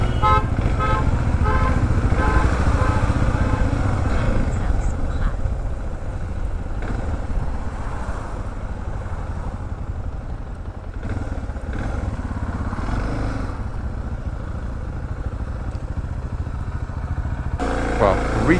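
Motorcycles ride on the road north toward Hurfeish, their engines giving a steady, loud rumble throughout, with a horn-like toot and passing traffic, and speech partly over the noise.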